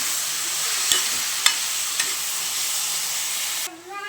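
Chopped tomatoes frying with onions in a pan for a Rayalaseema-style potato and egg curry, a steady broadband sizzle with a few light stirring clicks, close and alone, easing off near the end.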